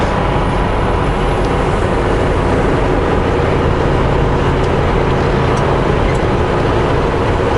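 A loaded truck drives the Hope Princeton highway, giving a steady, loud, broadband road and engine rumble heard from inside the cab, unchanging throughout.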